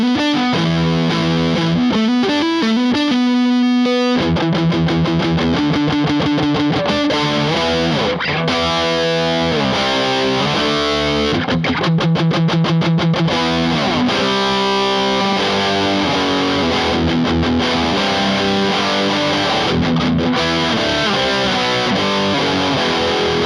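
An Arrow electric guitar played through heavy distortion, loud and continuous, mixing sustained chords with choppy riffs and short rhythmic stops throughout.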